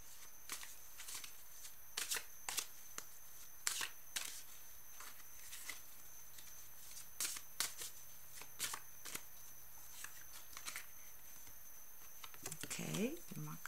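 Oracle cards are shuffled in irregular bursts of soft, papery riffling and flicking against a quiet background, ending with a brief rustle near the close.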